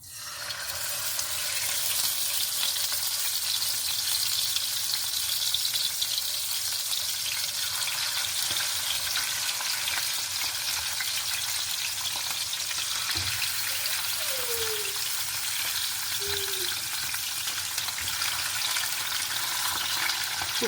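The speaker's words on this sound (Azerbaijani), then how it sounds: "İndi tavamız qızdı. Bir balıqlarımızı düzürük." Fish fillets sizzle in a hot frying pan, a steady bright crackle and hiss that holds evenly from start to finish with no talking.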